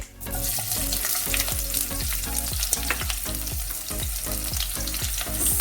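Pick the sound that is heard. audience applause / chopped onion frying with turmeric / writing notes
chopped onion frying with turmeric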